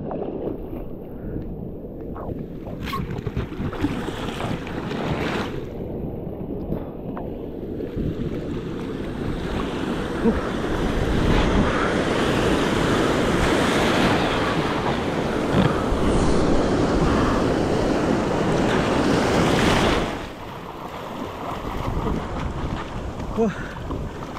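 Sea waves wash around a rubber inner tube used for fishing offshore, a steady rushing surge with wind buffeting close over it, easing briefly near the end.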